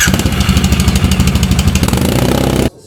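Motorcycle engine running in a servicing workshop, a loud steady idle with a rapid pulsing beat that carries on for a few seconds and then cuts off abruptly.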